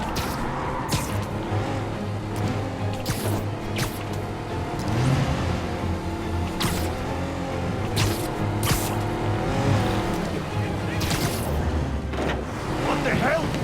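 A car racing through a chase in a Spider-Man video game, engine revving and rising and falling with tire noise and sharp impact hits, under frequent talk from game characters.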